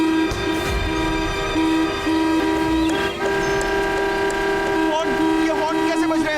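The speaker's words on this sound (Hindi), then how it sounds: "ये हॉर्न कैसे बज रहे हैं?" Horns blare in a cartoon adventure scene, a loud sustained tonal honking that holds steady with small breaks and pitch bends, continuing under busy sound effects.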